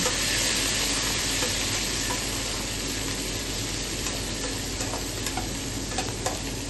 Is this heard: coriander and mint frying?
yes